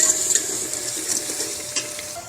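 Gram flour-coated potatoes frying in a pan while being stirred, giving a close, steady sizzle with soft scraping and shuffling strokes over it, continuous and unbroken with no voice.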